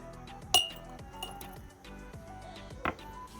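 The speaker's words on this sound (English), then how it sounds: "I'm going to take a tablespoon of these onions, if I get it all on there, and add it to my jars" A tablespoon clinks against glass jars while scooping chopped onions into them, with one sharp clink early, a few lighter taps and another clink near the end over quiet kitchen background.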